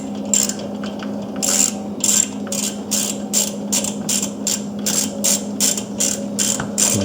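While a Kawasaki Mule 3010 carburetor is screwed down, a ratchet clicks close by in quick repeated strokes over a low steady hum, with no talk.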